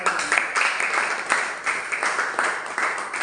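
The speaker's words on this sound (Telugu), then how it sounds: "సో వీళ్ళందరి వరకు give a big round of applause." Audience applause welcoming newcomers at a gathering, a steady wash of many hands clapping with a few sharper peaks, sustained throughout.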